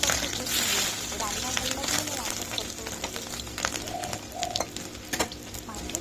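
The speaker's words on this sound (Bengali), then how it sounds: "ডিমটা ভাজা খুব ভালো লাগে" Fish roe frying in a small amount of oil for a curry, giving a steady broadband crackle and sizzle close by, with brief spatters and a few sharper pops throughout.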